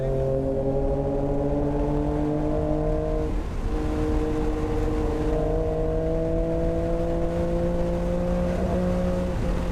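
Acura NSX engine held near its rev limit on a racetrack, a loud sustained high-revving harmonic drone with a brief dip or blip around the middle before pulling on steadily.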